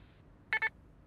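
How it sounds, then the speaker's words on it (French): A short double beep, quick and clear, cuts through near-silence. "après le bip, vous savez quoi faire?"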